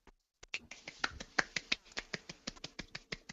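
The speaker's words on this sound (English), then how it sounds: "Golf clap." A golf clap, a lone pair of hands giving a run of light, evenly spaced claps after a short silence, close and quiet with no speech.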